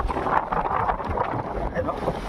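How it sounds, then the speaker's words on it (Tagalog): Strong seaside wind near a seawall buffets the microphone in a constant roar and rumble. The gusty low noise keeps going without a break. "Lakas talaga ng hangin."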